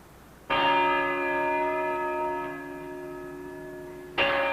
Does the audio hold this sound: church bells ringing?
yes